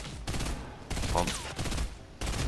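Gunfire in the Fortnite video game comes in loud, close bursts of rapid shots separated by short gaps, with a brief tonal game effect midway.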